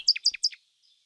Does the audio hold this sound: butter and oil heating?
no